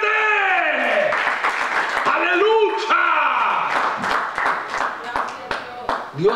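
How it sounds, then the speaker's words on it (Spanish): A Pentecostal church congregation claps loudly during a Spanish-language miracle service, with rapid scattered hand claps over shouting and a preacher's voice. "¡Denle un aplauso fuerte al Señor! ¡Fuerte!"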